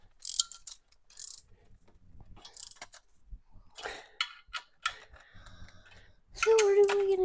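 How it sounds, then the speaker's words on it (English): A hand ratchet tightens down a part on a turbo LSX 427 engine for a Chevelle pro street build, giving several short bursts of rapid clicking separated by pauses, close and moderately loud, ending in a longer whirring stretch. "Okay, I'll torque it down."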